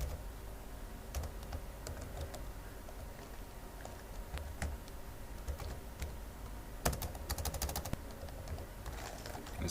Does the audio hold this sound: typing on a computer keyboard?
yes